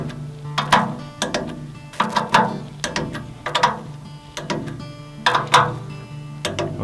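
A torque wrench ratchets in quick bursts of clicks while tightening blade clamp bolts during airboat blade maintenance, with repeated close, sharp clicking runs and short pauses between them.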